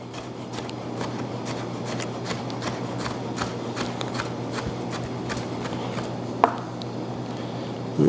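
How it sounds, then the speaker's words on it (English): A chef's knife dices vegetables on a cutting board at an outdoor market cooking demonstration, a quick, even run of crisp chops over a steady background hum, with one sharper knock near the end. "Turn it, and now cut dice the same size as the peppers."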